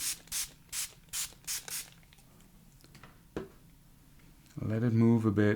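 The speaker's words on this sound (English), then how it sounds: "Spray with some water" Five quick hissing squirts from a spray bottle in a rapid series, followed by a pause and then someone starting to speak.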